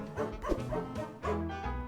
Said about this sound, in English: You're a dog, not a wolf. You're not supposed to howl at the moon.